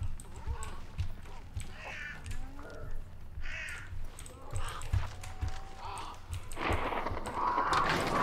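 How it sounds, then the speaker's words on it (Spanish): Crows in the video game Hunt: Showdown caw repeatedly in scattered bursts amid rustling game ambience, with footstep-like clopping and a voice speaking at times. "Putos cuervos."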